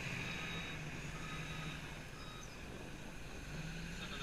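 A skid steer clearing snow during a 2015 blizzard gives off steady reversing beeps, repeating high tones over a constant engine and machinery rumble, moderately distant.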